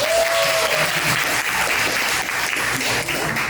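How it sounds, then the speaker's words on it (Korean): A large audience at a Korean church youth retreat breaks into steady, dense applause, loud and close, sustained for the whole stretch with no talking. "박수."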